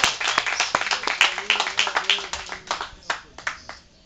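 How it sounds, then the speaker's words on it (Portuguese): A church congregation bursts into a round of applause, many hands clapping close and lively, with individual claps standing out and a voice briefly heard beneath. "Salva de palmas, meu glorioso Deus."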